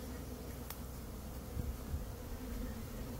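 Honeybee swarm making a dense continuous buzzing hum, steady and fairly faint, with no talk over it.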